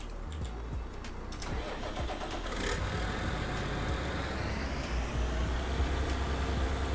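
A tractor engine in Farming Simulator 19 turns over and settles into a steady mid-pitched running drone, with a few clicks at the start and the hum holding loud and even throughout, no one speaking.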